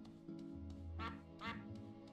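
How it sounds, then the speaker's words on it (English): Duck quacking in the life-sim game My Time at Portia: two loud, close, nasal quacks in a row over a steady game music bed. "Quack, quack."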